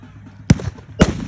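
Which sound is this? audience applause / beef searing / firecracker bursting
firecracker bursting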